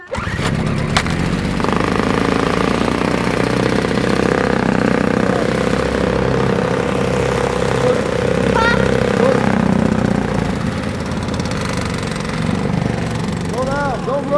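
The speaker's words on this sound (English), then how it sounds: "That's a technical difficulty starting the snowblower." Small snowblower engine running steadily during a winter storm, a close, continuous mid-pitched chug with slight variations, while people talk over it.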